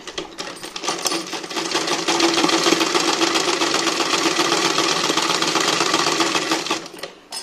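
A sewing machine stitches a fall onto a saree with a steady, close, rapid mechanical whir. It runs without pause for about seven seconds and slows just at the end, with no talking.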